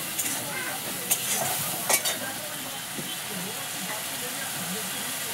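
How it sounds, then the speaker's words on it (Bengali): Spices with turmeric and tomato frying for egg curry, a steady close hiss of sizzling with a couple of sharper crackles and brief utensil scrapes as it is stirred. "এবার এটাকে একটু ভাজা ভাজা করবো।"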